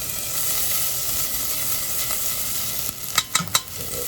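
Ginger sizzling in hot oil in a pan, a steady close hiss that runs throughout, with a few short stirring knocks near the end.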